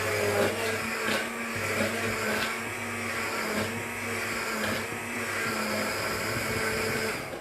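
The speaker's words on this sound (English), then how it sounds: "It'll take maybe 20 to 30 seconds, depending on the speed of your blender" A steady, loud motorized whir runs continuously, a high-speed blender emulsifying coffee without pause, with no voices.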